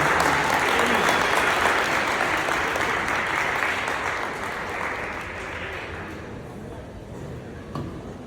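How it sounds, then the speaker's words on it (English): A school audience at Chaminade College gives a sustained round of applause for presenters, dense and loud at first, then gradually tapering off over several seconds. "Can we give another round of applause"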